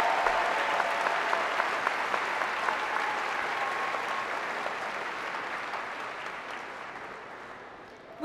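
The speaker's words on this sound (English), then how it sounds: "Please join me in giving a round of applause to the members of our graduating class" A large audience at a high school graduation ceremony gives a steady, dense round of applause for the graduating class, holding evenly throughout and fading slightly toward the end.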